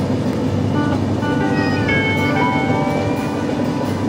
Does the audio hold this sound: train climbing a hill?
yes